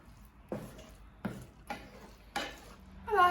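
Pasta being stirred into a vegan sauce in a pan: a few separate scraping, clattering strokes of a utensil against the pan, close and fairly quiet, with a faint sizzle between them.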